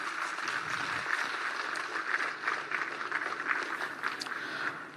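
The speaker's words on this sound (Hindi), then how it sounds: "अंगवस्त्र के साथ तालियां आपकी तरफ से हों।" At a Jharkhand state-level legal services camp, a seated crowd claps steadily to honour a High Court judge serving as JHALSA executive chairman. The fairly faint, scattered patter of hands goes on without a break.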